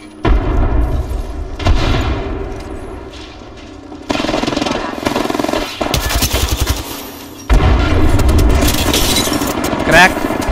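Apex Legends battle royale gameplay with bursts of rapid automatic gunfire and sharp explosive blasts, loud and close. A grenade blast comes amid stretches of rattling fire, and a voice speaks briefly in between.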